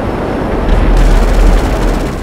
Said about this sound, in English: This explosion!